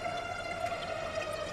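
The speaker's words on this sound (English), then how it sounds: "Notice how we can start to hear the water" A Sonicware Texture Lab synth produces a water-like ambient texture, a steady wash of trickling noise with a sustained tonal hum running underneath at moderate, even volume.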